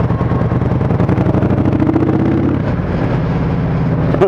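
Indian Scout Bobber Twenty V-twin motorcycle engine running loud and close while riding, a steady throbbing drone with a brief rise in revs, then settling back, with no talking.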